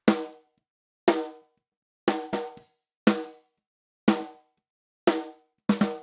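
An out-of-phase snare drum hit seven times at roughly one-second intervals, each strike close and dry with a quick decay, sounding thin and hollow.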